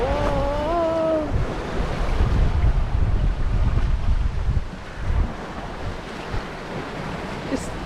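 Ocean swells wash and roar around a sailboat crossing the Atlantic from Mindelo, Cape Verde, with heavy wind buffeting the microphone; a brief voice-like tone at the start, then continuous rushing surf.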